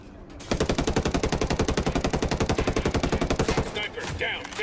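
Rapid automatic gunfire in Ghost Recon Wildlands as a helicopter is shot down, a loud sustained burst of evenly spaced shots for about three seconds before it stops and leaves quieter game sounds.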